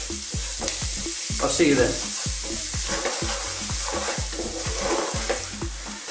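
Finely chopped garlic frying in a pan on low heat makes a steady hiss, overlaid by rhythmic, regular scraping strokes of a utensil stirring; a voice speaks briefly.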